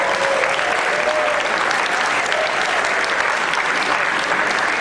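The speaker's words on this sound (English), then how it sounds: "so huge round of applause." A large audience at a Berkeley Rep children's camp superhero show claps in dense, steady applause that stays loud and even throughout, with no pauses.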